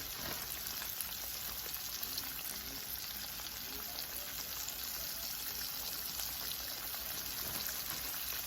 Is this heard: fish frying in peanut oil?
yes